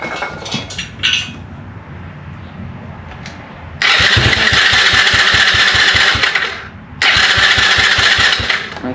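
A 125cc Blazer engine cranking with a few clattering attempts, then catching and running with a loud rapid putter, cutting out briefly and restarting into another loud run, close by.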